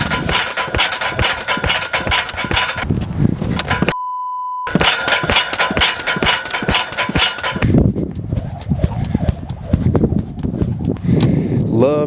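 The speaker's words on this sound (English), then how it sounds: "we are literally just going to jump some rope" Jump rope slapping the ground outdoors in a yard during plyometric training, a fast, even rhythm of sharp slaps, with a brief electronic beep partway through and faint voices.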